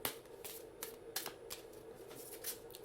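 A deck of tarot cards is shuffled up close for a reading, quick papery riffles and flicks coming in short irregular bursts, fairly soft, with no talking.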